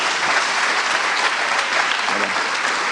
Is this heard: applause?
yes